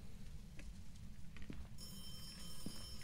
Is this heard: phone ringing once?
yes